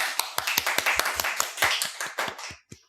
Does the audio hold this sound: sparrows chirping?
no